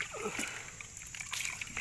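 Water poured and splashed out of a gold panning dish at an old digging site, a brief, faint splash and slosh close by.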